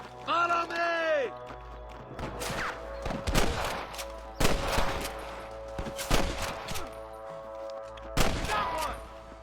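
Sniper rifle shots in the western game Red Dead Redemption, several loud, sharp cracks with echoing tails spaced a second or two apart, mixed with game ambience and a shouting voice at the start.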